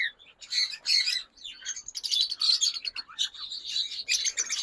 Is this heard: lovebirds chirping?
yes